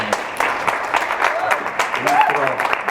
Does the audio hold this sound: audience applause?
yes